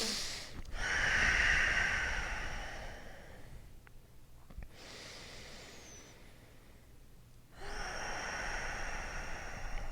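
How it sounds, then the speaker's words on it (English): Slow breathing in and out through the nose during a yoga session: long airy inhales and exhales in a steady cycle, close and soft, with a brief quiet pause in between and no talking. "We'll take a few breaths in and out through the nose."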